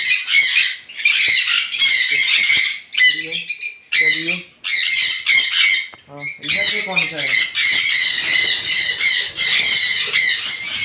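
Parrots at a bird breeding farm, including sun conures, squawking loudly and nearly nonstop in harsh, close bursts, with someone speaking briefly between the calls.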